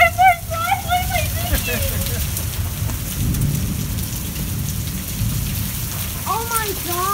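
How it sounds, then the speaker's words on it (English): Hail pelts down steadily in a loud, continuous close-up patter across a stormy outdoor scene, with excited voices shouting over it at the start and again near the end. "You guys hear that? You guys see all those hail?"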